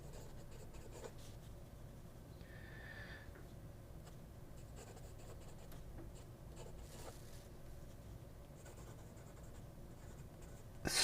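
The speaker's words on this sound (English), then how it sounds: "Smooth with some feedback to be expected. It's an italic nib." An italic-nib fountain pen scratching across paper in steady, faint strokes with light feedback, close and quiet, continuing alone without any voices.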